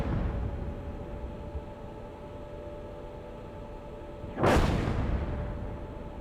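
A single sharp artillery blast from the tank game Gunner HEAT PC bursts out after a stretch of quiet background hiss, followed by a short decaying rumble.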